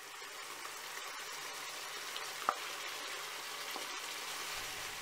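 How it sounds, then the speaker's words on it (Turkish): Onions and colorful peppers fry in a pan with a soft, steady sizzle, broken by a brief stirring clink, heard close and low without talk. "Şöyle bir iki karıştırıyoruz ve içerisine kesmiş olduğumuz renkli biberleri ilave ediyoruz."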